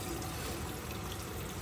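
Water pours steadily into a pot over raw chicken being prepared for homemade cat food, a continuous close rushing splash with no breaks.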